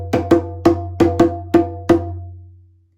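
Djembe playing the universal call rhythm: seven crisp, ringing strokes in an uneven, syncopated pattern over about two seconds, close and loud, with the last stroke left to decay alone.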